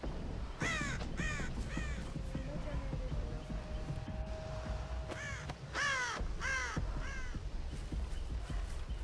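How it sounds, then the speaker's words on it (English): A crow caws in the Dead by Daylight video game, several harsh calls in quick clusters, moderately near, over a low ambient game soundscape. "Oh, there's a crow flying around over there."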